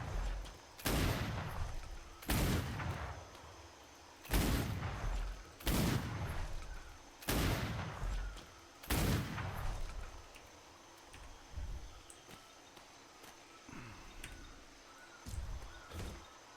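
Gunshots fired in a castle-building video game ring out in a slow series of about six sharp, loud reports spaced a second or so apart, followed by several fainter, softer shots.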